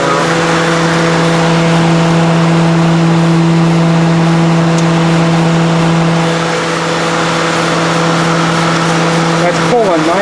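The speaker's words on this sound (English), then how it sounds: "This car has an auxiliary cooling fan under here." Steady, loud whir of an auxiliary radiator cooling fan under a 1995 Ford Crown Victoria, running continuously and close up with a constant tonal hum and broadband airflow rush.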